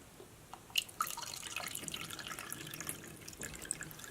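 Water poured over cornstarch in a bowl while making oobleck, a quiet trickle with a few scattered drips and splashes, soft and close with no talking.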